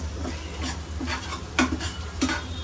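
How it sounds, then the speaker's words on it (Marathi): Chicken stirred in a pan as it roasts crispy: repeated scraping stir strokes about every half second over a steady low sizzle, close and moderately loud, no talking. "असा थोडा खसपून भाजून घेऊया, म्हणजे तो माझ्यासारखा क्रिस्पी होईल"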